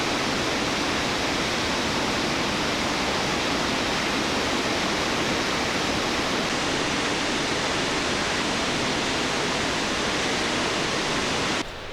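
A large waterfall in Washington roars with a steady, dense rush of falling water, loud and unbroken throughout, with no other sounds above it.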